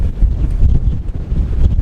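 Strong wind, gusting to about 47 mph during a long run, buffeting the microphone in loud, rumbling low gusts that roar continuously throughout, with no voices.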